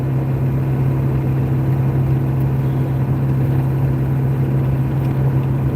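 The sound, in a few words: truck with 7.3 Power Stroke diesel engine driving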